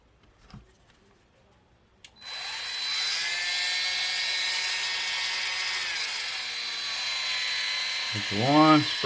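A rotary polisher buffs clear coat on a Tamiya 1988 Porsche 911 Turbo model car body, starting with a short click and then a steady, high-pitched whine that holds for several seconds before the motor changes speed.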